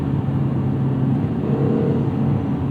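Lotus Emira with the turbocharged four-cylinder pulling hard under acceleration, a steady, loud engine drone and road rumble heard from inside the cabin, continuous with no talking.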